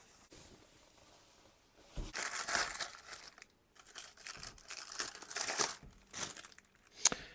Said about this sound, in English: So let's take this plastic bag off.